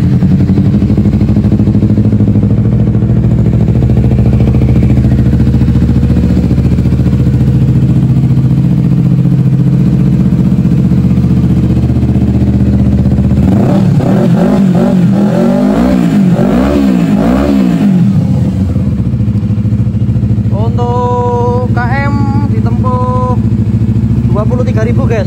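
Honda CBR 250cc motorcycle engine idling steadily, then revving in a couple of rising bursts midway and a few short throttle blips near the end, loud and close throughout.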